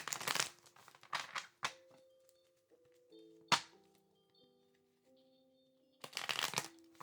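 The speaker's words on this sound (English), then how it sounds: "Let's go to the What's Gossip Oracle card deck." An oracle card deck is shuffled close by: crisp riffling bursts at the start and end, with scattered taps and soft rustles between them and faint tonal hum underneath, quiet overall.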